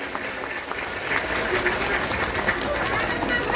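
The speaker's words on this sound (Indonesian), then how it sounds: "Sekali lagi tepuk tangan untuk Banser Taiwan." Audience applauding for Banser Taiwan at a 2023 religious gathering, a steady wash of clapping from many hands that holds at an even level for the whole stretch.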